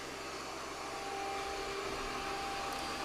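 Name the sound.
Ecovacs Deebot T30 Omni robot vacuum running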